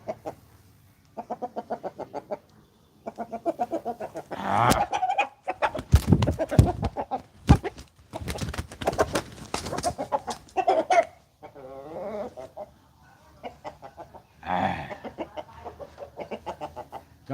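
Roosters clucking in irregular bursts, with sharper squawks mixed in, fairly close and loud, against a quiet background with gaps between calls.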